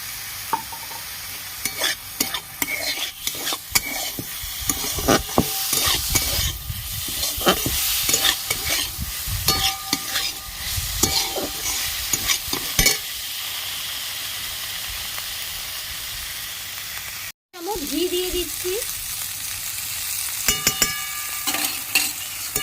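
Brahmi greens with fried eggplant stir in hot ghee in a pan, with continuous sizzling and frequent scraping strokes of a spatula; a brief break late on before the stirring and frying resume.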